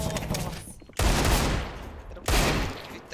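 Dense bursts of automatic gunfire in Counter-Strike: Global Offensive, loud and rapid, coming in two heavy waves with a short break between, with faint voices in the background.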